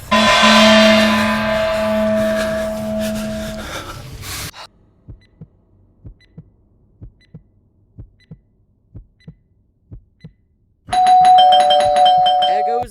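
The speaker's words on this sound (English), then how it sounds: "Don't you dare touch my doorbell again!" A doorbell rings loudly with a sustained two-tone chime, then after a quiet stretch of soft regular thumps it rings again near the end.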